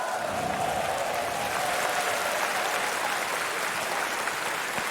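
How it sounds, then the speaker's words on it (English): Arena crowd at The International 2018 Dota 2 tournament applauding the eliminated team Fnatic, a steady, dense wash of clapping and crowd noise throughout. "Round of applause for Fnatic."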